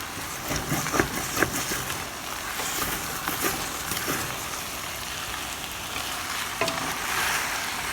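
Oxtail and short rib browning in a pot, a steady close sizzle and crackle with occasional sharper pops and stirring clatter.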